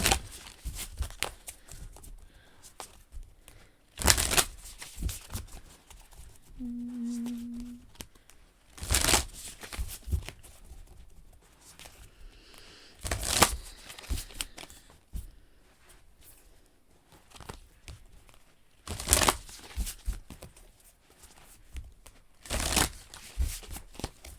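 Tarot cards are shuffled in repeated riffling bursts every few seconds, with soft handling rustles between them and a brief tone partway through, close and moderately loud.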